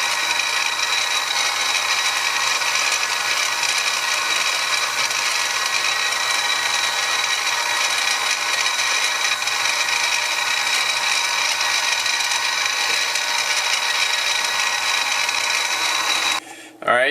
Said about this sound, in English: I have all the holes drilled